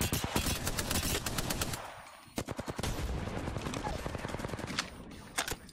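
Rapid bursts of automatic gunfire in the Apex Legends video game, dense and loud, pausing briefly near the middle before resuming with sharper individual shots toward the end.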